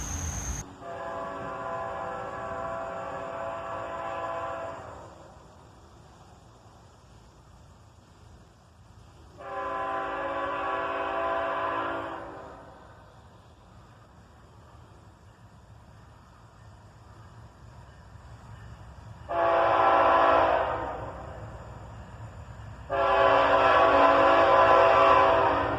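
A CSX freight train passes on a Sunday, sounding its horn in four long blasts separated by quieter stretches of rolling rumble, the last two blasts louder and closer.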